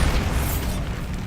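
A Bombarda spell blast in Hogwarts Legacy, a single deep booming burst that fades out over about a second, with no talk.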